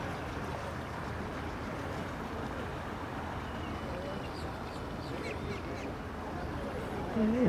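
A duck quacks at a boat ramp over a steady wash of water and outdoor background noise, the calls faint and scattered, with a louder burst near the end.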